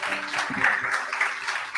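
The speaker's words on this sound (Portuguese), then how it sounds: "Dê um aplauso a Jesus aí." A church congregation applauds during a sermon, a dense patter of clapping with a voice briefly heard over it.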